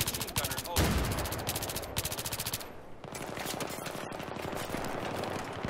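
Sustained machine gun fire in Battlefield 3 during a tank conquest match on Seine Crossing, loud, rapid automatic bursts that run almost continuously with only brief gaps and a clipped, dense crackle.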